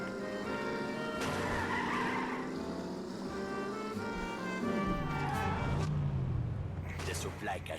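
A car power slides in The Saboteur with tire squeals and engine whine over continuous driving noise. A pitch sweep comes near five seconds, and a voice speaks over part of it.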